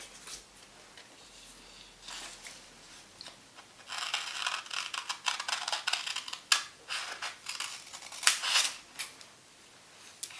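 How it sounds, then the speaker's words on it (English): Scissors cut paper for Christmas Tardis decorations, starting with soft handling and then a close, crisp run of rapid snips and crunches that come in quick irregular bursts. "So simple cutting is actually quite a delicate noise compared to the paper moving around."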